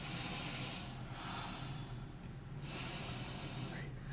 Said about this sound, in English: Another deep breath in, and exhaling over to the other side and holding the pose and breathing.